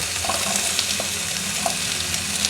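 Potatoes drop into a pan of frying onions, bringing a constant close sizzle with a dense, even hiss and a few small pops and scrapes scattered through it.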